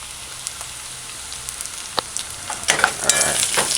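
Ackee, bacon and thyme sautéing in a pan, with a constant soft crackling sizzle and scattered sharp pops and utensil scrapes that grow busier and louder toward the end, heard close up.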